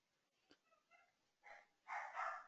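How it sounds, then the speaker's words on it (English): Dogs bark in a few short, muffled bursts with whimpery tones, growing louder toward the end, heard faintly from a distance indoors with no speech. "You guys hear my dogs barking."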